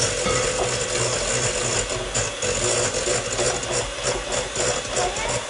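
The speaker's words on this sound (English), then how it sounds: "Now we're just gonna beat it all together." An electric hand mixer beats a cream cheese layer for a keto dessert, making a continuous loud, gritty mechanical whir with a rattling texture that holds steady throughout.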